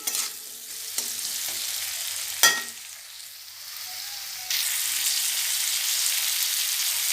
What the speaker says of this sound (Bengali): আলুর মধ্যে একটু নুন আর একটু হলুদ এই দিয়ে আলুটাকে হালকা করে কষিয়ে নিচ্ছি